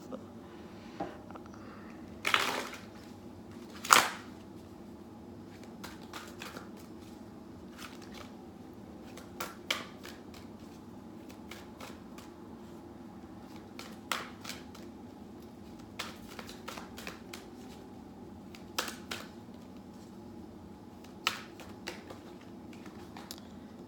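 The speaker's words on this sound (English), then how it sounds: "One more shuffle." Oracle cards are shuffled in quick papery riffles and soft flicks, scattered taps and slaps over a quiet room, fairly close.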